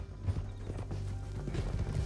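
Horse hooves clip-clop at a gallop in the video game Red Dead Redemption 2, a quick steady run of close thudding beats under a low rumble, with no speech.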